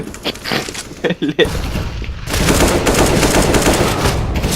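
Gunfire in a shooting video game: a few sharp shots early on, then a dense, continuous burst of loud rapid fire with some speech-like sounds mixed in.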